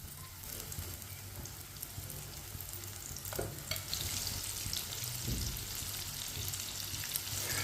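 Mixed vegetable pakoras fry in hot oil, a steady close sizzle and crackle that runs throughout with no talking.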